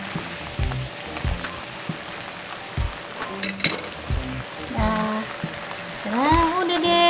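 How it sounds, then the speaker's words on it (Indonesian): Teriyaki sauce sizzles in a pan without oil while being stirred, with a steady frying hiss under repeated scraping and clinking strokes of a utensil, ending in a louder burst of sizzling. "Diaduk-aduk aja sampai mateng"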